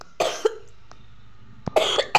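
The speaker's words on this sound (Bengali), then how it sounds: "আমার এত কাশি উঠেছে কি যে বলবো" A person at a new shop opened for Vishwakarma puja coughs in two short bursts, each a few harsh close coughs separated by about a second of quiet room, with no talk.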